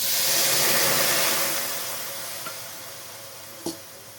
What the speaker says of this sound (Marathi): आता आपली कढई तापलेलीच आहे आपण त्याच्यामध्ये थोडंसं पाणी टाकू